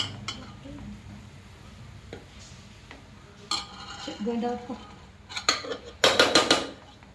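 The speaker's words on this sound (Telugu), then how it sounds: "ఇంతకుముందు మనం వేసిన పదార్థాలన్నీ బొరుగులకు అతుక్కునేలాగా కలపాలి." A utensil stirs puffed rice with added ingredients in a metal pan, making intermittent scraping and clinking strokes that grow louder and quicker toward the end.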